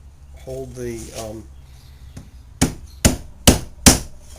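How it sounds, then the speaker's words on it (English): Four sharp hammer blows drive nails into a wooden cross support in an even rhythm, close and loud, after a brief murmur of voices and a creak at the start. "So we just nail them in flush."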